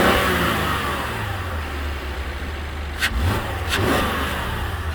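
A 3.5 V6 direct-injection engine in a 2015 Mercedes GLK350 4matic runs steadily up close with a constant mechanical rumble and light ticking, briefly swelling twice near the end.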